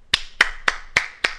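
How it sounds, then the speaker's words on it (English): A station master applauds in an audiobook of Chekhov's The Cherry Orchard: five crisp, evenly spaced handclaps, close and dry, with no voices. "Station master applauds."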